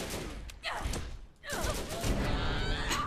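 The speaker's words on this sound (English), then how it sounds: "I was shooting Watson for like half that battle." Gunfire in a Borderlands video game battle: dense bursts of rapid shots with brief pauses between volleys, loud and close.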